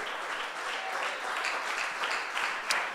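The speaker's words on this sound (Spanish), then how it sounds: "Fuerte el aplauso a nuestro amado Rey." Congregation applauding in a church service, a steady wash of many hands clapping at moderate level with no voices over it.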